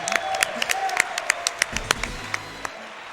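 A few scattered hand claps ring out one after another, sharp and fairly close, over faint background noise with no steady crowd applause.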